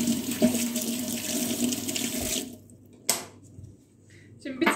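Water pours from a tap for a few seconds as hands are washed in a kitchen during beetroot salad prep, then the flow cuts off, leaving near-quiet with a few faint clinks.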